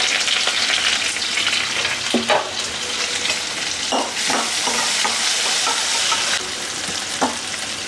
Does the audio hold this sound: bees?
no